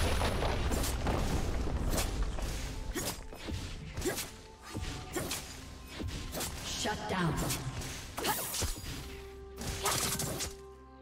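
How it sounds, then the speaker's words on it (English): Heavy booms and crashing impacts pound through a League of Legends match as a turret is destroyed, dense repeated hits and whooshes with a voice speaking over the game sounds. "Red team's turret has been destroyed."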